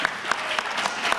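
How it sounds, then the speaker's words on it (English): Audience applause at a community IGNITE Carroll evening event: steady dense clapping from a crowd, fairly close, with rhythmic peaks every quarter second or so, no talk over it. "Jim just got the most applause this evening"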